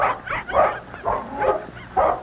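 A Scottish terrier barks and whimpers close by while tugging on a stick, giving five or six bursts of gruff, strained vocalizing in an irregular rhythm.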